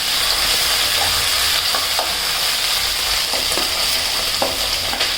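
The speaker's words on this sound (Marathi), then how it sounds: "वेगळा वेगळा भात फ्राय करून घ्यायचा आहे हा राईस" Rice frying in a pan, a steady loud sizzle close by with occasional scraping stirs of the spoon through the grains.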